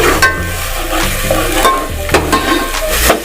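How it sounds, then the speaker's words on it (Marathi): Dry coconut sautéing in oil over a medium flame, loud close stirring scrapes over a continuous sizzle with rhythmic clanks from the pan. "चांगलं या तेलामध्ये आपल्याला परतून घ्यायचा गॅस मीडियम फ्लेमवरती ठेवलेला"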